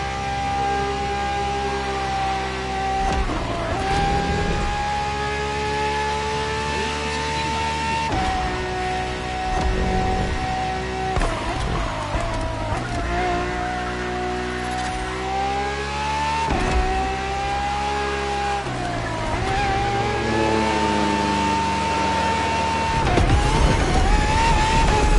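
Ferrari FXX K supercar in The Crew Motorfest, its engine revving and shifting through repeated climbs in pitch, loud and continuous with rising and falling gear changes and no voices.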